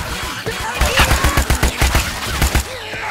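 Rapid rifle fire in Left 4 Dead 2, a burst of about a dozen sharp, evenly spaced shots over a couple of seconds, loud and close, with game voices and clatter around it.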